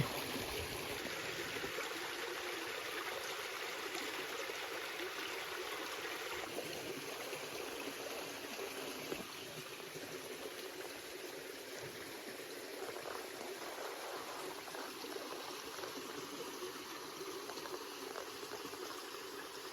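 A mountain stream in a headwater forest rushes steadily beside a hut, a soft, even wash of flowing water with no voices.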